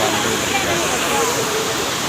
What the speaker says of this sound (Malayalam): കൊടൈക്കനാൽ വെള്ളച്ചാട്ടം